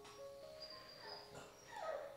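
Mini Goldendoodle puppy whimpering indoors, with faint, thin high whines and a short rising-falling whine near the end, quiet against light background noise.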